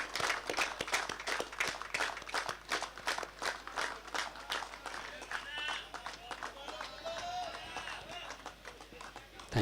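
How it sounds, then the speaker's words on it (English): A crowd gives loud, sustained applause at a prize ceremony for an inter-zone cricket tournament final, dense fast clapping that runs for several seconds and thins slightly toward the end. "Let us give a loud round of applause to our Bhaskar Datta sir."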